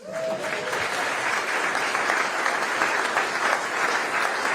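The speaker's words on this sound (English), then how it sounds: "So I think that deserves a round of applause." A crowd at a football head coach introduction claps in sustained, dense applause, loud and close, holding steady throughout without pause.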